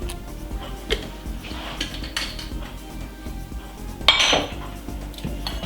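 A metal spoon scrapes and clinks around a pot of stewing chicken, with irregular close clatters and one sharper knock near the end, with no talking.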